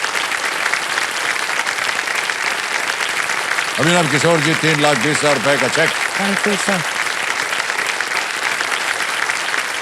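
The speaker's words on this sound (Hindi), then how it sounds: "तालियां बच जाए इनके लिए।" Studio audience applause on the quiz show Kaun Banega Crorepati, a continuous loud wash of clapping throughout, with a voice speaking over it in the middle.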